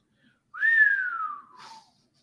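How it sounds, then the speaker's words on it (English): A person whistles a single clear, loud note that slides downward, followed by a brief breathy trailing sound, alone in silence. "I hope you heard me whistling because I did."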